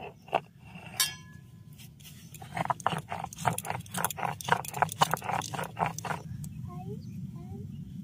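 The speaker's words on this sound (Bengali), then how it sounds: "প্রথমে আগে জিরেটাকে হালকা করে বেটে নেব, তারপর পোস্তটা দেব।" Cumin and poppy seeds are ground on a stone grinding slab, a rapid series of scraping, clicking strokes following a few isolated knocks, with low room noise beneath.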